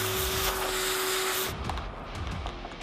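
A vacuum cleaner sucks up dust on an apartment veranda, a loud, steady motor whine that cuts off abruptly partway through, leaving quieter scraping and knocking handling sounds.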